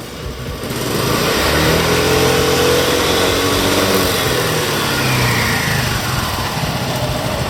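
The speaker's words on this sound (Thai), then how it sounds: "คันนี้เครื่องดีมากๆฟังเสียงเครื่องเบิ้ลกันสักหน่อย" A Honda Forza 300 scooter engine is revved loudly up close, rising and falling in pitch as the throttle is blipped and held, a sustained buzzing roar with no talking.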